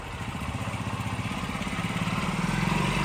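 A motorcycle engine idles close by in a steady, pulsing chug that slowly grows a little louder, with no talk over it.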